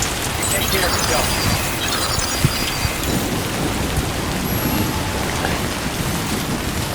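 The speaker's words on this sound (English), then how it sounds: "Oh, it's raining." Steady heavy rain and rolling thunder in the video game Death Stranding 2, a dense continuous downpour with deep rumbling underneath and a couple of sharper cracks midway.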